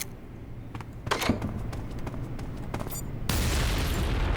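A blast in Metal Gear Solid 3 sets off a sudden loud broadband burst near the end, after a stretch of scattered thumps and impacts over a low steady game ambience.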